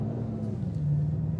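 The engine of a Bugatti Chiron Sport hypercar gives a low, steady, fairly quiet rumble, heard alone for a brief moment.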